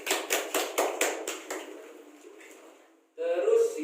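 A classroom applauds a student with a burst of hand claps that starts crisp and rhythmic, then thins into scattered patter and fades out, before a voice speaks at the end.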